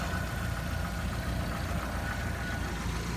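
A 2.5-liter single overhead cam four-cylinder engine idles close by, a steady, even low rumble that holds unchanged throughout, with no talking.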